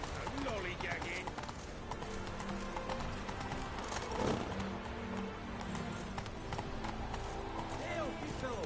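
Roach, the horse in The Witcher 3, gallops with quick rhythmic clip-clop hoofbeats on the ground, steady and close, mixed with game sound effects and a faint background voice.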